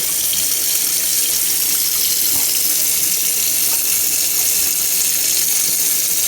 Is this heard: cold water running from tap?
yes